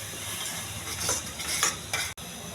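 Potatoes with salt, chili powder and turmeric are stirred in a pan, giving soft scraping, rustling strokes in a few uneven bursts over a low sizzle, ending in one sharp clack.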